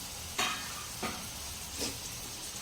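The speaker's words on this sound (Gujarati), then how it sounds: "હવે તેમાં આપણે 1 નંગ મોટું ટમાટર ઝીણું ઝીણું સમારીને ઉમેરી દઈશું" Finely chopped tomato goes into a pan of fenugreek leaves and gram flour, setting off a steady close sizzle broken by three scraping stirs as the mixture fries.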